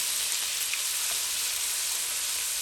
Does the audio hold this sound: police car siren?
no